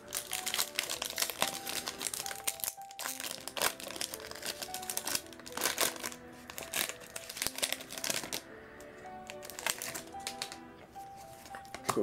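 A Pokémon XY Furious Fist booster pack wrapper is torn and opened up close, with repeated sharp crinkling and crackling bursts of foil plastic in an uneven rhythm and brief pauses between them.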